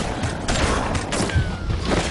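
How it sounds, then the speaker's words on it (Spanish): A rapid volley of gunfire, several sharp cracks in quick succession over a noisy, rumbling background. "Y entonces oí disparos."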